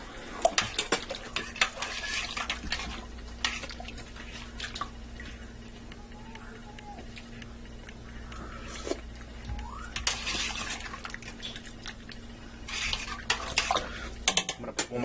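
Italian wedding soup being stirred in a pot, a spoon scraping and clinking against the metal in bursts, with a low steady hum underneath and no voices.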